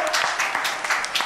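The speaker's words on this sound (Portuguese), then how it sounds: "Palmas, palmas, por" A brief spatter of clapping from a dating-show audience, a few quick hand claps close by, over in just over a second.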